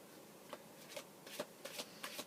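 Tarot cards are shuffled in quick, soft riffling bursts, about half a dozen crisp flutters close up and fairly quiet, with no talking.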